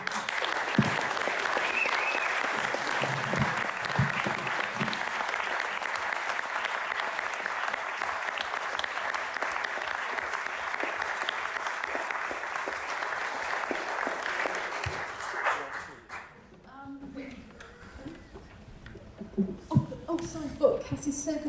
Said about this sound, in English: I think we should give ourselves all a round of applause.